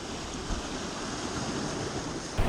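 Steady wind rushes over open water, a constant broad hiss with a faint low rumble of surf beneath.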